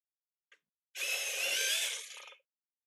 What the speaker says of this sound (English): One of the first things I invested in was an electric sharpener.